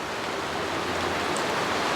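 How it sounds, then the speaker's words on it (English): Heavy rain pours down in a dense, steady hiss with no breaks and no voices. "Yeah, it's really raining now."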